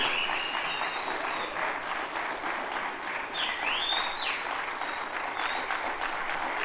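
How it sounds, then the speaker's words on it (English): Lecture hall audience giving a sustained round of applause at an annual lecture, even dense clapping throughout with a faint whistle or two above it. "please give her another round of applause, ladies and gentlemen."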